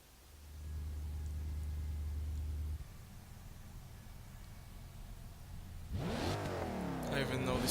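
Game engine audio of a 2012 Bowler EXR S in Forza 6: a steady low drone that drops to a quieter rumble, then a loud rising rev surge near the end, with no talking.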